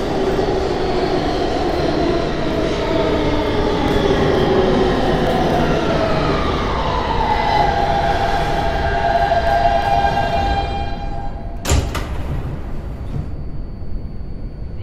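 Kawasaki R160B Siemens G subway train on the IND Crosstown Line in a Roblox game, a loud steady rumble with rising and falling motor whine as it runs and slows, ending in a sharp brake clank and quieter idling.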